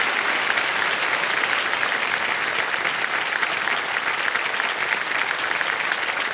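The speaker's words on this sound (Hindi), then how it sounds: "हाँ, ताली बजती रहे।" Sustained, dense applause from a studio audience at a televised quiz show, a steady loud wash of many hands clapping that holds evenly throughout with no pauses.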